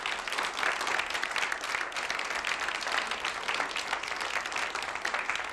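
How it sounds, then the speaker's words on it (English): A studio audience claps in a dense, steady round of applause that holds at an even level for several seconds, with no talk over it. "let's have a nice hand for Mr. Ray Crawford."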